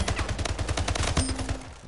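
Rapid automatic gunfire from the video game Splitgate, a dense run of closely spaced shots firing steadily for under two seconds, loud and without talk.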